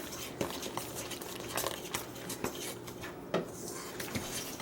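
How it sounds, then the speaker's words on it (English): A utensil mixes peach cobbler batter in a bowl while milk is poured in, giving soft irregular clinks and taps against the dish over a quiet kitchen background. "Now slowly as I'm mixing, I'm going to add in 1 cup of milk."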